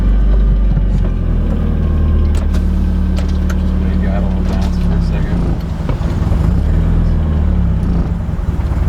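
A Mitsubishi Evo IX with aggressive cams idles after a cold start, a steady low engine rumble filling the whole stretch, with a faint rise and dip in the idle near the middle.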